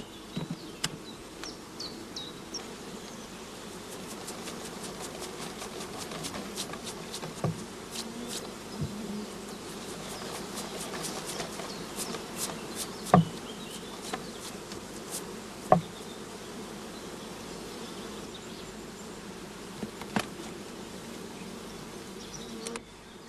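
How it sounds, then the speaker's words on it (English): A mass of honey bees shaken from a colony during a shook swarm, a dense continuous buzzing hum throughout with scattered clicks and knocks from hive equipment, close and steady, with no speech. "the mass of bees was enough to give us one shook swarm"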